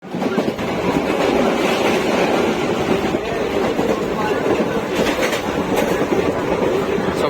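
The Uttaranchal Sampark Kranti Express runs at speed, with a loud, steady rumble and rattle of wheels on the track heard from inside the coach.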